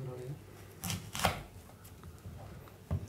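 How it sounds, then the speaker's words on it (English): A knife cuts through an apple on a board, giving a few close, crisp chops spaced apart against a quiet background, with faint speech in the background. "Cut the apple."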